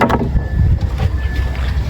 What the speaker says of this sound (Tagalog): Maganda na yung makina, diba? Parang kang may motor.